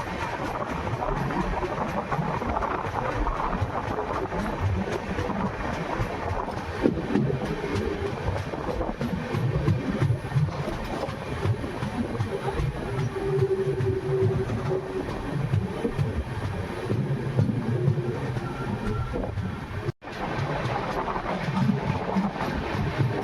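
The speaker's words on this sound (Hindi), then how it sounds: "तो डेगाना शहर के एकदम बीचों बीच से निकलती हुई ट्रेन।" Jaipur–Jodhpur High Court SF Express (22977) running on rails through the middle of Degana town, a steady, close rolling rumble with continuous clickety-clack of wheels over rail joints, no talking.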